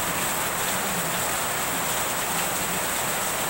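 Heavy rain pouring down in a steady, dense, loud hiss close by, continuous and unbroken with no voices.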